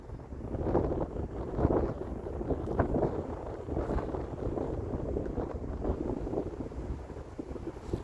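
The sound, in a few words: wind blowing outdoors behind the speaker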